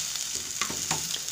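Beef steaks frying in a pan with salt, sliced onion and minced garlic, a steady sizzle with a few short scraping stirs, close and clear with no talk.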